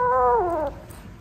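A kitten lets out a short, strained, tonal growl that slides downward in pitch and fades within a second, heard close with faint background noise.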